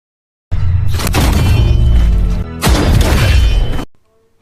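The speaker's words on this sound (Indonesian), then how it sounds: "mereka memberondong tembakan ke arah Sobok" Loud, dense cinematic blasts of heavy gunfire from armor-piercing rifles and booming impacts, sustained for about three seconds, a brief dip, then another roaring volley before cutting off.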